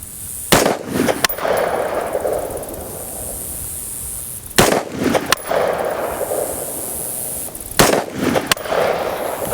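A rifle fires three sharp, loud shots at a bowl target 25 yards away on an outdoor range, spaced about four and three seconds apart, each with a short ringing decay into quiet hiss.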